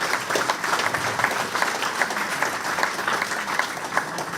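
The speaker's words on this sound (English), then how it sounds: "Big round of applause for our directors this evening, Richard Knight, Tony Potney, Jamie Sarsfiel" An audience at a Rochdale AFC fans' forum applauds the club directors with steady, sustained clapping from a crowd in a room.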